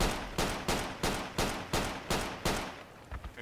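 Gunfire in the military video game Project Reality cracks out as about eight evenly spaced shots, a steady rhythmic volley with short decaying tails, fairly faint and with no voices.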